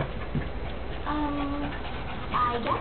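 A dog watching a squirrel up a tree gives soft whimpers and panting, faint whining tones rising in short bursts over quiet outdoor background.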